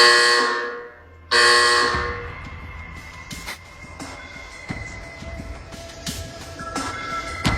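Electronic alarm tones in a Randolph County hospital setting: a loud held tone opens, breaks off, and returns, followed by a series of shorter beeps and pitched chirps over a busy background.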